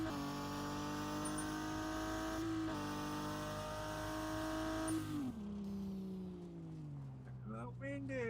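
A car engine in the video game Revhead revs for a drag race, a loud steady drone that climbs in pitch, drops, and swells again as the throttle is worked. A voice talks over the engine noise.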